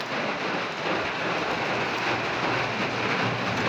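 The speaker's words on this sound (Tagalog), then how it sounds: "It's raining." Rain falls steadily outside, a dense and fairly loud hiss that stays constant throughout with no other sounds.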